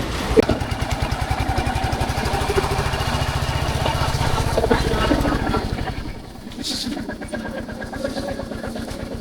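A Royal Enfield Bullet 350 motorcycle engine idles with a steady, loud thumping putter, a voice speaking over it part of the time.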